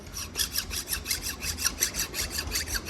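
A hand file rasps over nicks on a bearing seat of a straw reaper machine part, cutting in steady repeated strokes about five per second, close and fairly loud with no talk.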